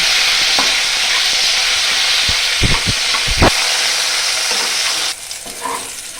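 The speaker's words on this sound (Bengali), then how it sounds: "এই উচ্ছেগুলোকে আমি হালকা করে লাল লাল করে একইভাবে ভেজে নেব।" Bitter gourd pieces fry in hot oil with a loud, continuous close sizzle, with a few soft clinks of a spatula against the pan partway through.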